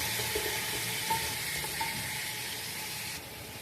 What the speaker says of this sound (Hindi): लो फ्लेम पे मैं इसको फ्राई करूँगी।